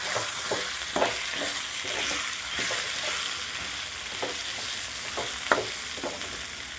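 Eggplant and sweet potato pieces with salt, turmeric and chili powder are stirred in a sizzling pan, with soft repeated scraping strokes over a steady frying hiss.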